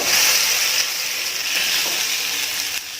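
Fish frying in oil on a banana leaf, Kerala-style meen pollichathu, giving a loud, continuous close-up sizzle and hiss with no talking.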